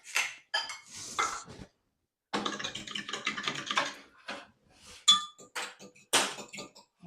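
An egg being stirred into milk for Yorkshire parkin, heard as a run of close, bright clinks and scrapes of utensil against a bowl in short bursts and a longer stretch of continuous stirring.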